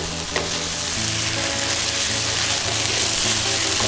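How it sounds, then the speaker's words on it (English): Pork stir-fried with red curry paste in a pan gives a loud, continuous close-up sizzle, with stirring strokes running through it and no voices. "keep going until the pork is nearly cooked"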